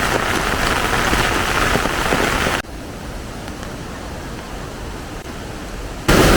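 Dense, loud rain hisses steadily, dropping to a quieter downpour for a few seconds before surging loud again at the end.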